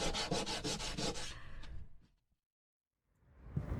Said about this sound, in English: I have been sanding the entire top side for the third time.